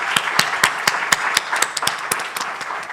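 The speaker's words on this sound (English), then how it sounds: "Let me hear your loudest applause" Audience at a youth event in Ghana claps in sharp, distinct hand claps, several people clapping unevenly over a steady background crowd roar, close and fairly loud.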